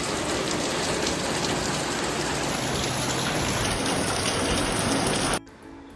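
Steady, heavy rain pours down with a dense, continuous hiss, loud and close, before cutting off abruptly near the end.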